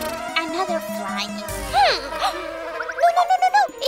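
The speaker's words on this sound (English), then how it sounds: "No, that's a fly." A cartoon fly buzzes with a high, wavering whine that swoops up and down in pitch. Short bouncy sound effects join it, and the buzz stutters at the end.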